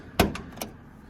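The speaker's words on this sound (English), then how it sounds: "We've got our old key back, which locks and unlocks, and the door opens" A toy Hot Wheels car door is unlocked with its key and opened: a sharp click, then two lighter clicks close up, followed by quiet.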